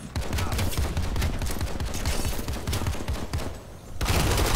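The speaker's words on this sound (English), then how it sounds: "He dumped all the bullets he had to kill me." Sustained automatic gunfire in Planetside 2, a dense rapid stream of shots filling the clip at close range, dipping briefly before a loud burst resumes.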